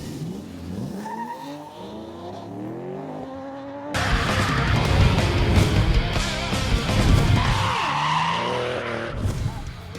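Drift cars at a French drift championship round at Croix en Ternois, engines wailing and tires squealing in long sliding passes, growing louder and denser as cars sweep close, continuous throughout.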